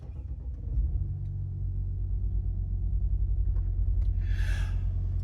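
An Audi SQ5 engine starts with a quick crank and catch, then settles into a smooth, low, steady idle, with a short breathy hiss near the end.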